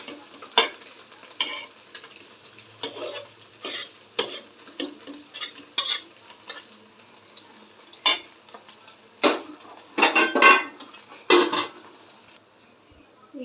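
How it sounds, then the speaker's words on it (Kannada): Cooked rice for egg rice is tipped into a frying pan and stirred, giving a string of sharp scraping and clattering spatula strikes against the pan over a faint sizzle, with short pauses between bursts. "ಈಗ ರೈಸ್ ಸೇರಿಸ್ಕೊತಾ ಇದ್ದೀನಿ ನೋಡಿರಿ"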